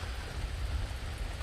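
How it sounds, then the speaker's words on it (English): Steady rain falling outdoors on a rainy day, a soft continuous hiss with a low rumble beneath it, even and unbroken throughout, with no voices. "we're going outside in the rain"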